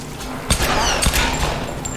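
Gunfire in the 2013 Tomb Raider video game: two sharp, loud shots about half a second apart over a steady background of game ambience, followed by a softer thump.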